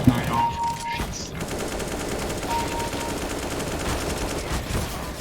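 AK rifle fire in the competitive shooter CS:GO rattles in a rapid, steady stream of shots for several seconds at moderate loudness, with game background noise and faint voice chat underneath.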